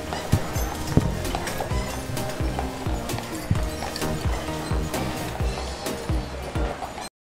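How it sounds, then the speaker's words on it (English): Horses' hooves clip-clop along a street on Mackinac Island, with repeated sharp hoof strikes in an uneven rhythm amid general outdoor bustle and faint voices. "There are lots of horses around."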